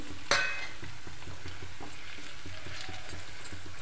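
Steady sizzling of tomato pickle frying in a pan as chili powder, cumin-fenugreek powder and salt are stirred in, with a sharp clink of a spoon near the start and a rhythmic scraping under the hiss.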